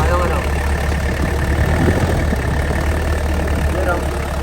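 Mitsubishi L300 engine running with a loud rattle: a continuous, heavy, low rumbling drone with a clattering texture, steady and close throughout.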